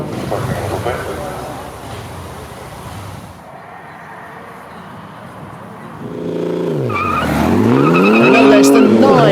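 A 1958 special racing car built by coach builder Freddie Owen, with D-type wheels, E-type Jaguar front suspension and an XK140 drivetrain, climbing the Chateau Impney hill. Its engine rises through rapid revving sweeps, growing louder near the end, with talk heard over it.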